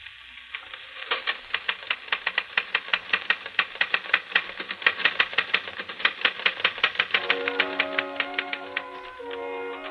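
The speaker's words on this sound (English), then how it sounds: "Yes, Charles, you're busy typing on a phonograph record" Rapid mechanical typewriter keystrokes replayed from a phonograph record on a small portable player with a repeating attachment, a steady run of crisp clacks with a brief ding-like tone near the end, heard alone.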